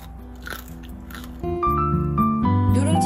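Crisp crunching bites into crispy Korean scorched rice (nurungji), a few sharp cracks followed by steady chewing crunches, close up with no talking.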